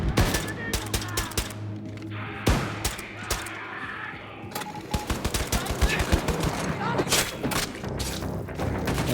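Bursts of video game gunfire, rapid automatic volleys and single heavy shots with thumps, loud and close, coming in dense clusters with short pauses between, mixed with faint voices in the background.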